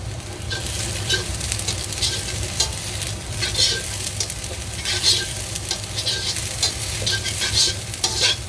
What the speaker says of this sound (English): So just keep stir frying it, a little oil at a time, so it gets crispy and nice